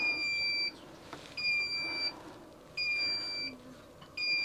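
A Carpuride W903 car screen beeps after being switched on, giving four evenly spaced, sustained two-tone electronic beeps over a low background hum, with no speech.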